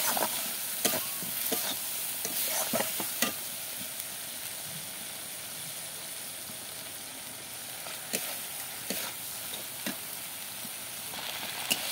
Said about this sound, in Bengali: এরপরে দিয়ে দেবো সামান্য একটু জল। ভালো করে একটু নাড়াচাড়া করে নেব।